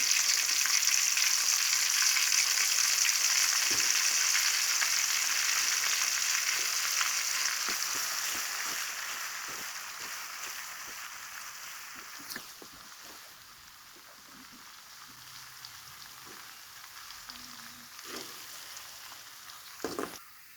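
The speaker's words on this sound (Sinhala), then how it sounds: "ලුණු ටිකක් රන්වන් පාටට බෙද ගන්නවා." Onions fry in hot oil in a pan until golden, a loud continuous sizzle that gradually quiets, with scattered clicks and scrapes of stirring.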